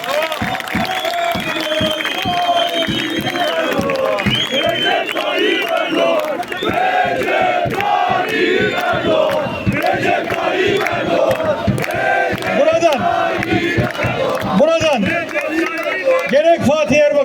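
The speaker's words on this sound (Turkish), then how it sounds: "Ve Cumhurbaşkanımız Recep Tayyip Erdoğan'ı kuvvetle alkışlıyoruz." A dense crowd at an outdoor presidential election rally in Şile, Turkey, cheers and applauds loudly and without a break, with shouting and chant-like bursts rising over a continuous roar.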